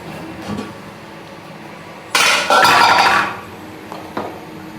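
A cooking pot is set down onto a pan for dum chicken biryani, a short metallic clang and scrape with a brief sustained rattle of metal against metal, close by against a quiet kitchen background.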